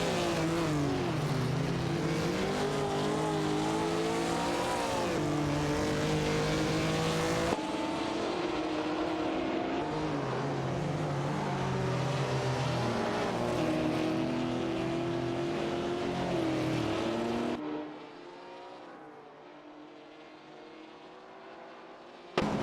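Race cars accelerate hard in a circuit race, with layered, rising engine whines that overlap and sweep in pitch, loud and continuous before dropping to a quieter hum near the end.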